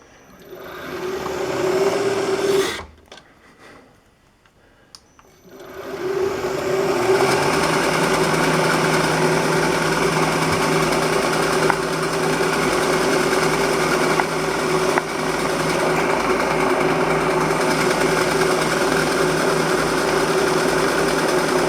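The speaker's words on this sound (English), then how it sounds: "So let's go over to the mill and do that." Milling machine cutting the surface of a jewelry wire roller, a loud steady high-pitched whine that drops out briefly, then resumes and runs continuously at close range.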